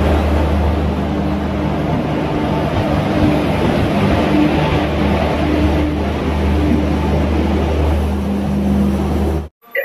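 A passenger train pulls into Santragachi railway station, a loud, continuous low rumble and roll of wheels and engine close by, steady throughout before cutting off at the end.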